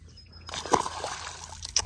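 A three-pound bass is released back into the water from a boat, giving a brief close slosh and splash, then a short trickle.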